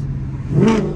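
A 2014 Mustang GT with long tube headers downshifts, its loud exhaust swelling into a brief rising rev with a crackle of pops near the end of a short burst.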